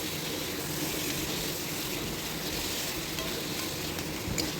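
Boiled spinach stirred in a hot pan gives a dense, unbroken hiss of sizzling and moist rustling, close and steady throughout.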